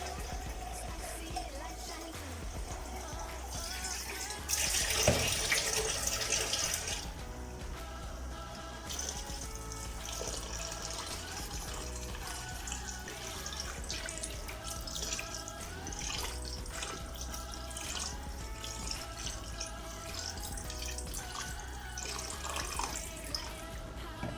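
Running water pours steadily into a pot of chicken, with a louder splashing burst early on, over faint background noise and kitchen clatter.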